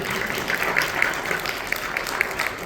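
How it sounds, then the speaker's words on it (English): Audience applause at a fundraising dinner after a heartfelt reading, a steady wash of many hands clapping at moderate distance that fills the whole moment, with a few sharper claps standing out. "give her another round of applause, please"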